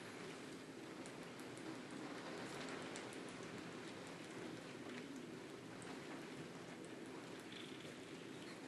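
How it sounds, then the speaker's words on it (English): Rain falls in a thunderstorm, heard from a balcony as a faint, steady hiss of raindrops and gusting wind that continues evenly throughout, with no talking. "I don't know if you guys can hear the raindrops in the fucking wind"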